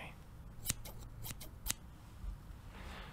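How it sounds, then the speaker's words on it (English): Scissors trim a goatee beard during a soft-spoken haircut session, a few crisp close snips spaced irregularly over quiet room tone, with no talking. "I'm just going to give it a little trim"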